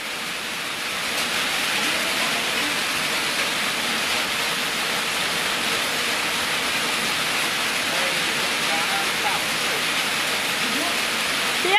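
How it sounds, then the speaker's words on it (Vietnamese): Steady heavy rain falls at a fishing pond in a Vietnamese village, an even, loud, close hiss that holds unbroken without any voices. "mãi chả tạnh mưa để rút nước"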